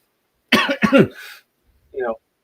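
A couple of harsh, raspy coughs up close from a persistent month-long cough, followed after a short pause by a brief throat-clearing rasp.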